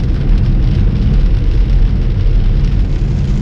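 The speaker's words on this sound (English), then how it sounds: "It's not raining hard, but you know when you're driving, it appears to be harder than it is." Rain heard from inside a moving car on a drizzly East Tennessee road, a dense, constant low roar of tyre and road noise mixed with light rain hiss, steady and loud throughout with no talk.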